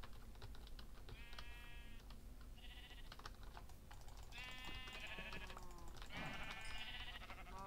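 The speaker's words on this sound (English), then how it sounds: "Sheep! 3 of them! Perfect!" Sheep bleat in a Minecraft-style server game, several drawn-out calls from three animals rising over a steady background with keyboard tapping.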